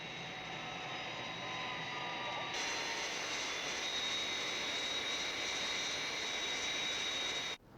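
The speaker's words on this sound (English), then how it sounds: "I just couldn't fault that takeoff." Skythrust aircraft engine roaring steadily through takeoff and climb, a loud continuous jet-like drone with high whining tones that surges louder partway through and holds, then cuts off abruptly at the end.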